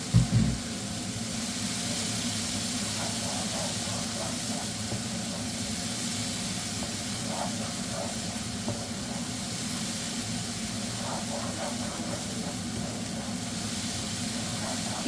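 Half a cup of yellow mustard paste sautéing in a pan for Bengali-style mustard chicken, a steady close hiss and sizzle running unbroken throughout with faint crackles.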